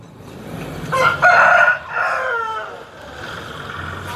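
A rooster crows once nearby, a loud drawn-out call that trails off, followed by soft background noise.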